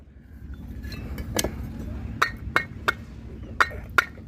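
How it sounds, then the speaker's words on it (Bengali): Grade-two clay bricks tapped to test their ring give about five sharp, separate clinks in the second half, over a low steady background hum. "দুই নম্বর ইটটা একটু সাউন্ডটা দেখব"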